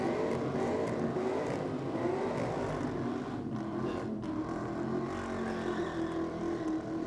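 Holden Commodore VZ drag racing car with an engine bigger than 297 cubic inches, at a drag strip. The engine roars steadily and loudly at high revs for several seconds with no pauses, heard from a distance with no voices over it.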